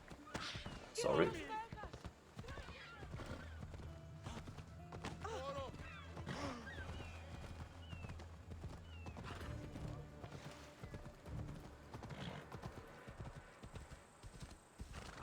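Horse hooves clip-clop steadily while riding through a town in Assassin's Creed Odyssey, with a horse whinnying near the start over a low ambient bed and some faint background voices.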